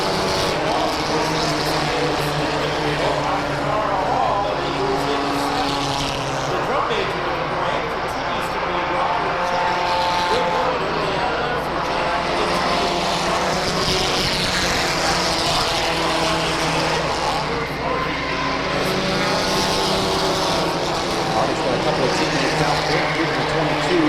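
Stock cars race around Waterford Speedbowl, a sustained loud drone of engines under continuous announcer commentary as cars battle down the back straightaway.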